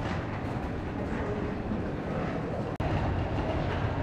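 Steady low rumble of a moving double-decker train heard from inside, heading to Venice, constant and fairly loud, with one brief dropout partway through.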